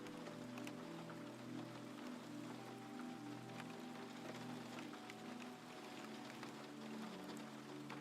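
Rain falls in a soft, unbroken hiss with scattered drops, faint and steady throughout, with no voices or other sounds.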